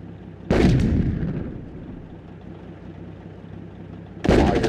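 Artillery fire in the real-time strategy game Sudden Strike 2 during a battle at Anzio: two heavy booming blasts a few seconds apart, the first trailing off into a long rumbling decay.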